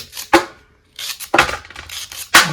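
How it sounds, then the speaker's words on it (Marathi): Thin rounds of banana sliced with a knife: a few sharp, close cutting strokes against a board, separated by brief pauses. "आपल्याला अशा पद्धतीने आपल्याला केळीचे बारीक चकल्या काढून घ्यायच्यात."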